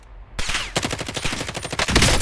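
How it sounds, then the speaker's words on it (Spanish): Rapid automatic gunfire in the Warzone video game, a loud burst of evenly spaced shots after a brief quiet start, firing steadily for nearly two seconds with a slight pause and a final flurry. "Sus disparos eran morados y todo el pedo."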